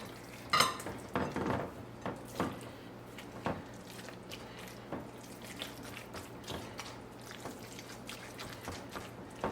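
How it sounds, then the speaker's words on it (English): Burger patty mixture being mixed together in a bowl, giving irregular clinks, soft knocks and squelchy strokes close by with quiet gaps between, and no talking. "And then you mix it well together."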